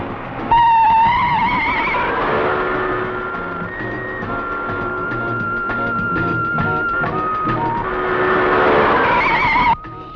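A car brakes to a halt with squealing tires in a Malayalam film scene, the radiator having run out of water. A loud, sustained whine of sliding, wavering tones lasts about nine seconds and then cuts off abruptly.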